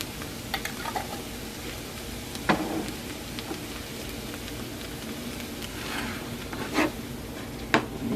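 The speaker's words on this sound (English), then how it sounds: "Get this stirred up, let this garlic cook some." Garlic sizzles steadily in a pan, a soft continuous frying hiss with a few sharp scrapes and clicks as it is stirred.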